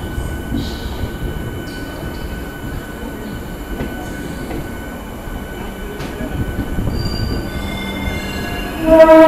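Yelahanka Kacheguda Express electric train in motion: a sustained metallic wheel squeal over steady rail rumble, close and continuous, with a brief louder swell at the very end and no talking.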